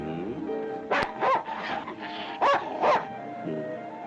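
A dog gives a handful of short, sharp barks, two pairs close together over a steady low background, fairly near and moderately loud.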